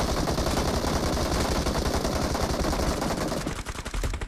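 Dense, continuous automatic gunfire from the PUBG Mobile battle royale game, loud and rapid throughout, with the barrage thinning and breaking up slightly toward the end.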